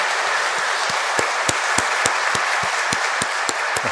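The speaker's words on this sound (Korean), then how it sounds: "자, 우리 괜찮으신 만큼 박수를 보내드릴까요?" A congregation at a Sunday Mass applauds a visiting council member, with a steady wash of clapping broken by sharp, regularly spaced claps that fall into a rhythm throughout.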